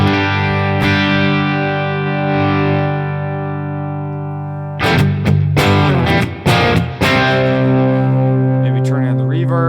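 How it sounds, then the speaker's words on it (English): Electric guitar played through a Boss Katana 100 Head MKII amp with overdrive on: a long sustained distorted chord rings out and fades, then a burst of choppy, muted strummed chords follows, loud and close. "So let's go ahead and turn on some overdrive."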